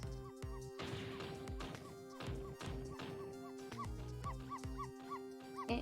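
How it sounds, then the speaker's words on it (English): In the Ghost Trick video game, a dog barks at a mouse, giving repeated sharp yips and barks in an uneven rhythm over tonal background music, with thuds mixed in. "Dog's barking at the mouse."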